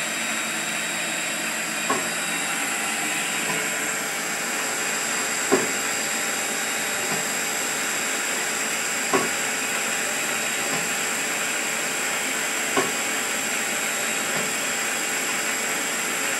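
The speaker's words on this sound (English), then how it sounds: "Now we're going to drill the holes to mount the diaphragm." A CNC machine drills holes in an acetyl plastic microphone part, running dry with a steady high-pitched whine and a sharp tick roughly every few seconds as each hole is started.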